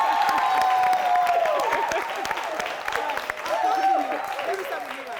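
A studio audience at a New Year comedy special applauds and cheers, a broad sustained wash of clapping with whoops mixed in, loud and close, and a voice rising above it at times.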